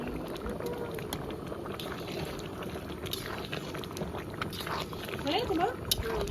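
A pot of ghugni, a Bengali pea curry, simmering on the stove gives a steady close bubbling and gentle sputter throughout, while someone talks over it.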